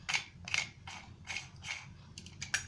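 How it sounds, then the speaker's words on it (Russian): A toy washing machine drum spins as its small wheel is turned by hand, giving a run of soft plastic ratcheting clicks in short bursts, about six rough pulses, close and quiet. "И вот если покрутить это колесико, крутится у нас барабан."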